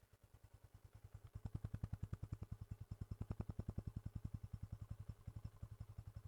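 A Yamaha FZS V2 motorcycle with about 15,000 km and two years of use runs its engine nearby, a rhythmic thumping idle that swells slightly louder and then settles into steady pulses.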